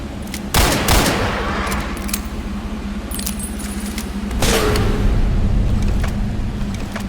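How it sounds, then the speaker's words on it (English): A railgun in the video game Ashes: Afterglow fires loud, sharp blasts with jangling metallic rattles over a constant rumble of in-game noise. "we've basically got a bit of a railgun now"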